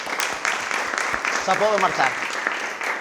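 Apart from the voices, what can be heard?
audience applause for a speaker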